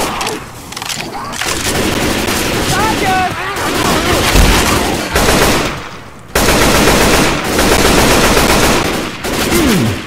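Dense, loud automatic gunfire from several weapons in Left 4 Dead 2 crackles almost without pause, with bursts stopping and restarting and occasional booms mixed in, while players shout over it.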